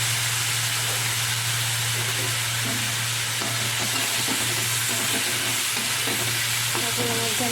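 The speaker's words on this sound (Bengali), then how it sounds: "আমি এর মধ্যে আলুগুলো ছেড়ে দিচ্ছি আলুগুলোকে একটু মিলিয়ে করে ভালো করে ভেজে নিতে হবে" Potatoes fry with turmeric in a wok, making a steady, close sizzle with scattered stirring scrapes over a constant low hum.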